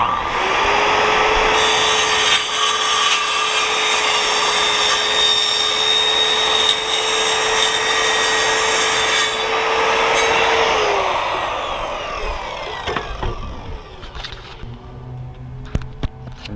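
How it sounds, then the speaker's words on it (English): A corded saw whines steadily and loudly as it slowly cuts through an aluminum door threshold. After about eleven seconds it winds down, and then come scattered clicks and handling sounds. "corded saw here and just take it easy on a cut like this on aluminum"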